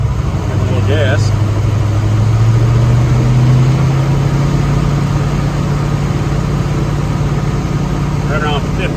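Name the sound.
car engine revving with a little gas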